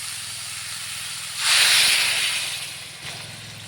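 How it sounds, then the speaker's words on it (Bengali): Water poured into a hot pan of pumpkin stem and potato curry gives a sudden loud sizzling hiss that swells, then fades into a steady simmer with a brief second burst. "এবার এটাতে আমি জল ঢেলে দেব।"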